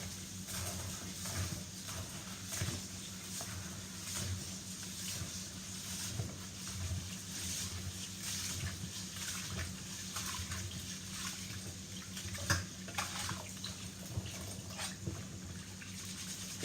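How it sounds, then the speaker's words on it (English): Rice washed by hand in a large bowl of water for spinach rice with okra and chicken, giving soft continuous sloshing and swishing with periodic rubbing strokes, fairly quiet and steady with no talking. "So now I'm going to wash the rice to put it in the pot."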